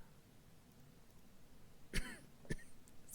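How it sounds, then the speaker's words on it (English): Two short coughs close to the mic, one sharper and one quicker, following a quiet stretch of low background noise. "Excuse my cough."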